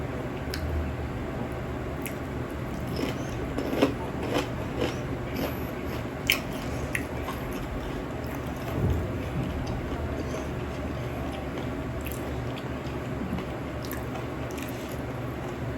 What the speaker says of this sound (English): chew a piece of bacon. Look, listen to the crunch.